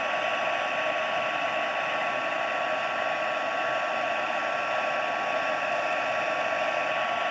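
A heat tool blows hot air onto paper while embossing a card with soft pastels, giving a loud, steady whooshing whir that holds unbroken and alone throughout.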